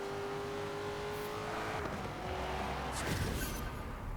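An A800 race car in the Forza Horizon 4 video game, driven on a custom upside-down touring track, drones at steady high revs, then its engine note swoops down and surges again near the end, loud and with no talk.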